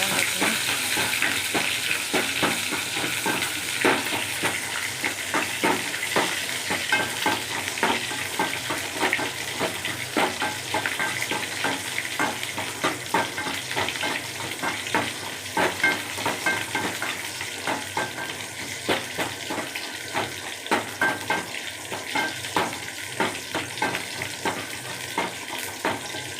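Onions and curry leaves sizzle and fry in a pan with a steady crackling hiss, punctuated by frequent stirring scrapes, close and loud throughout.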